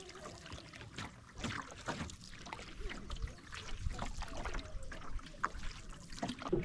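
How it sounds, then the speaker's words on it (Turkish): A boat nears a village dock at Trunyan in Bali, with water sloshing and trickling against the hull and soft splashes and knocks, moderately close and steady throughout. "Teknemiz yanaşıyor."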